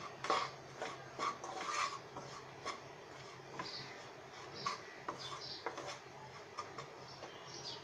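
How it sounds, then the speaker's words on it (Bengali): Besan (gram flour) being stirred continuously in a pan for Eid laddu, a soft scraping and rubbing of the spoon with scattered light clinks against the metal, steady and close. "এই যে আমি বেসনটা যেভাবে নাড়ছি ক্রমাগত ওইভাবে দশ মিনিট নাড়তে থাকলে এরকম পাউডার মতো হয়ে যাবে"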